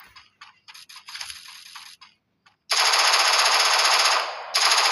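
Rapid automatic gunfire from the Free Fire video game, aimed at an enemy's head: a few short broken bursts, then a long loud continuous stream with a brief dip near the end.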